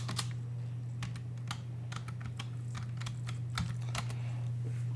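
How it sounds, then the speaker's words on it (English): Fingers type on a computer keyboard, producing irregular bursts of crisp key clicks with short pauses between them, close and clear over a low steady hum. "And you have to type the exact name here."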